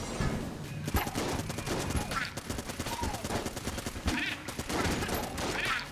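Rapid, continuous gunfire from the video game Enter the Gungeon rattles on, dense repeated shots emptying a magazine amid busy game effects and occasional swooshing sounds.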